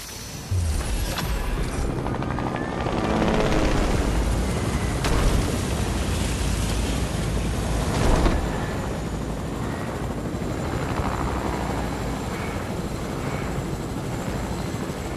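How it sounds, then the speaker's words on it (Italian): A helicopter in the Fortnite video game flies steadily, a loud continuous rotor and engine roar filling the scene throughout with slight swells, no talking over it. "dobbiamo riprendere l'elicottero perché c'è un sacco di strada da fare adesso"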